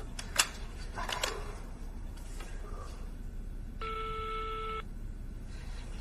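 A single ringback tone of an unanswered phone call purrs for about a second, steady and moderately loud against a quiet room hiss, with no voices during it.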